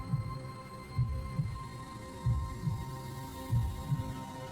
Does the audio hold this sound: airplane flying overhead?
no